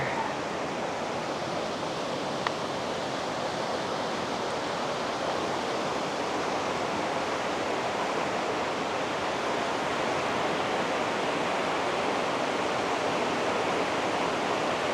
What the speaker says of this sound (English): It's going to be loud with all the water